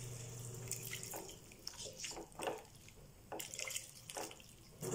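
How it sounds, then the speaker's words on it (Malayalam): About half a cup of water is poured into a pan of butter chicken, giving soft, quiet splashing and trickling bursts with short pauses between pours, close by. "ഇതിലേക്ക് ഇനി നമുക്ക് വെള്ളം ഒഴിച്ചു കൊടുക്കാം."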